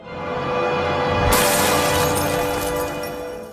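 A glass bottle smashes against a person's head in a single loud shattering crash, followed by a bright spray of breaking glass that rings out and slowly fades.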